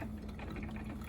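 Black & Decker drip coffee maker nearing the end of its brew, giving a steady low gurgling and bubbling hum with a faint continuous drone, close by and alone.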